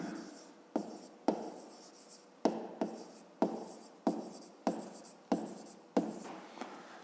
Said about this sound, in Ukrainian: Пишемо розв'язання